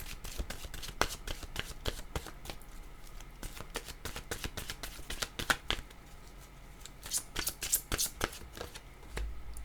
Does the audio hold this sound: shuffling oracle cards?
yes